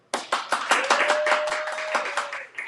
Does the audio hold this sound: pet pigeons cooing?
no